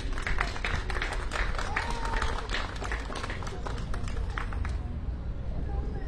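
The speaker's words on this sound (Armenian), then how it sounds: "ես կյանքում այնքան քիչ ծափ չեմ ստացել" An audience at a political party campaign rally claps loudly, a dense, steady wash of applause with crowd murmur that holds for several seconds before easing off slightly toward the end.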